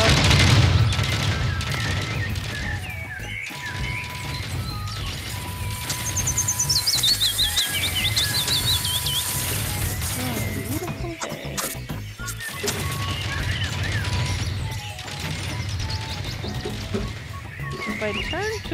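Gunfire in the zombie shooter game ZombiesWaves, scattered shots and booms over a busy game soundtrack, with a player talking throughout.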